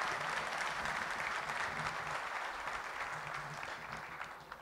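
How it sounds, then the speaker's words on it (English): Steady applause from an audience at an investment summit, a dense even patter of clapping that fades slightly toward the end. "Could we please have a round of applause for them?"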